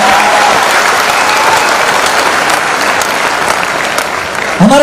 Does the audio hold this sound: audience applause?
yes